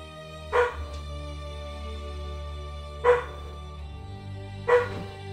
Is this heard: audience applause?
no